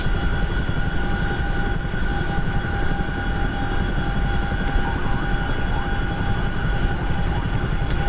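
Aircraft accelerating down the runway on its takeoff roll, a loud, continuous broadband roar with steady engine tones, heard from inside without any talking.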